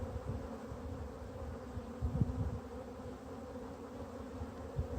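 Honey bees swarm and buzz around an open hive box during a spring inspection, a steady close drone with brief louder swells as individual bees pass near.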